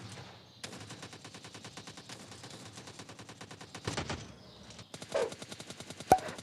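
Rapid M4 rifle bursts rattle in a battle royale video game, a long string of evenly spaced shots followed by shorter volleys and a sharp final crack, moderately loud with no talk.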